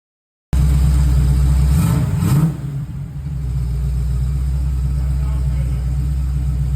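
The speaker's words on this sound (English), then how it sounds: "the car features a full stainless exhaust system, featuring long tube headers, an X-pipe, and QuickTime Performance Twintronic Screamer mufflers" A car with a full stainless exhaust (long tube headers, X-pipe and QuickTime Performance Twintronic Screamer mufflers with electric cutouts) idles loud and close, fires one sharp rev near two seconds, then settles back into a deep steady rumble.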